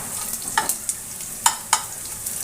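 Shredded cabbage frying in a pan with five-spice and a dried red chilli, a spatula knocking and scraping in a few sharp strokes over a soft, even sizzle.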